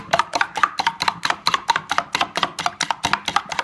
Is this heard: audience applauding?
no